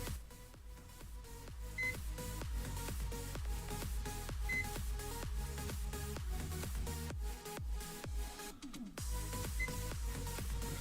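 A multimeter on continuity mode tests a soldered DIY Dig-Quad v3 circuit board and gives brief faint beeps at irregular moments, among a steady stream of rhythmic clicking and tapping.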